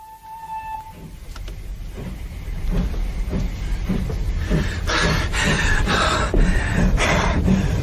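A train runs steadily throughout, with a low rolling rumble and rhythmic clacks from the wheels. The noise grows louder and brighter toward the end as hissing bursts come in.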